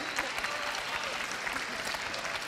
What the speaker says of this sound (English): Gets an appreciative clap from the crowd